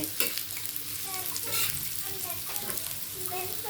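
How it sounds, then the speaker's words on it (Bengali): Onion frying lightly in a pan gives a dense, continuous sizzle with quick stirring scrapes and clicks throughout, close and fairly loud. "পেঁয়াজটাও হালকা ভেজে নিব"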